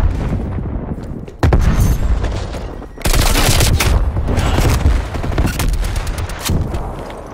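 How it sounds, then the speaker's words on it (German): Intense gunfire and a thrown grenade in the Call of Duty Black Ops Cold War multiplayer game: loud bursts of rapid shots, sudden blasts near 1.4 and 3 seconds, then sustained firing to the end, close and dense. "Granate geht raus. Werfe Granate."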